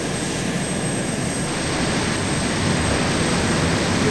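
Harrier jet taking off in the ARMA 2 video game, a steady loud engine roar with a broad hiss and rumble that holds and builds slightly throughout.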